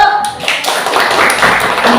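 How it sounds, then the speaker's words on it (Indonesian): Students in a classroom clap for a classmate who has just finished presenting, a dense patter of hands that starts after a brief opening and continues steadily, with voices mixed in. "Ayo kasih tepuk tangan yuk."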